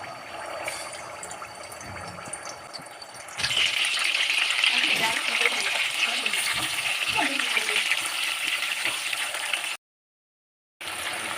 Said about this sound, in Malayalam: ഇനി ചിക്കനൊന്ന് പൊരിച്ചെടുക്കാം